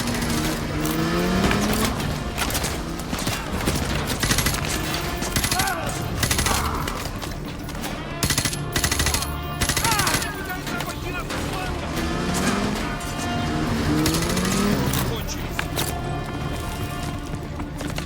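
Gunfire rattles through a Modern Warfare 2 Remastered battle: sustained bursts of automatic weapons fire with scattered single shots, dense and loud, mixed with engine noise and the chatter of soldiers' voices.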